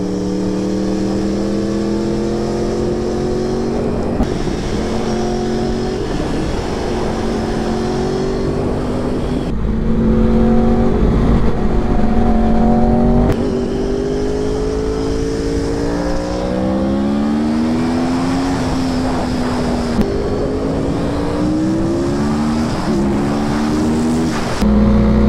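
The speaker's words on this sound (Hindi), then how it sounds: "अगर आपको R1 चलानी है और लाउड एग्जॉस्ट है तो एयर प्लग्स लगाने पड़ेंगे" Yamaha R1 sport motorcycle with a loud aftermarket exhaust, its engine droning and revving steadily and close by for the whole stretch, pitch rising and falling, with no voices over it.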